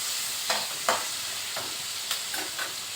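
Onion frying lightly in a pan for a taro and prawn dish, a steady bright hiss of sizzling oil with a few soft spatula scrapes scattered through it.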